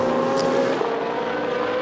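Bentley race car in qualifying at the Nürburgring: a loud, sustained engine drone holding a steady pitch, dipping slightly as it passes, with no voices over it.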